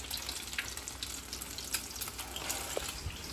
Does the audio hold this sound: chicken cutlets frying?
yes